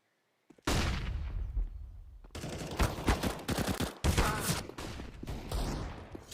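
Counter-Strike gunfire during a professional match, including an AWP sniper rifle: after a brief silence, loud rapid bursts of shots crack in quick succession, dense and close, continuing through to the end.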